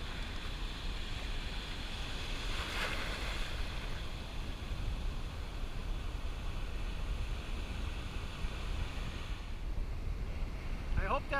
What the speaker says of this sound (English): Look at the size of those waves, wow.